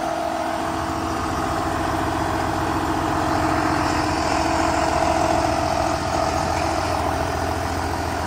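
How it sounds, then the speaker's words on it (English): A tractor engine runs steadily at idle near a building site where beams are being installed, a loud, continuous low rumble with a steady drone and no pauses, and no talking over it. "I'm trying to get this tractor out."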